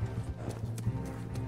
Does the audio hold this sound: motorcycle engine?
no